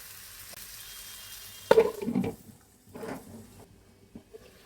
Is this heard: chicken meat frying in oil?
yes